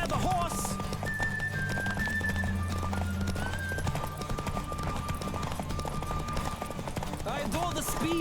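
Steady galloping hoofbeats of a horse in The Witcher 3: Wild Hunt, close and continuous, with a brief whinny over a dense game soundscape and low sustained tones.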